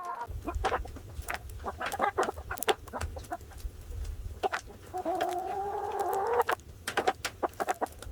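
Bresse chickens on a farm in France cluck softly and steadily nearby while pecking corn and wheat grain, with scattered sharp pecking taps and a low rumble underneath, no talking.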